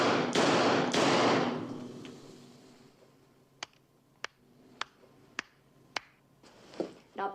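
Two loud gunshots crack in quick succession in a dramatized shootout and fade out, followed by a run of light, sharp, evenly spaced taps and ticks. No one speaks.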